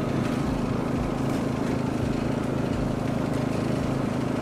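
A Cub Cadet CC30H hydrostatic riding lawn mower cuts grass, its engine running as a steady, continuous drone with a low hum, close and alone without speech.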